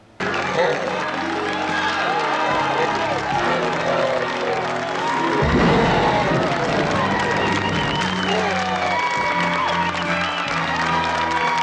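Cartoon audience at a beach show cheering and applauding steadily and loudly throughout, a dense roar of crowd noise with scattered whoops and a brief louder swell midway.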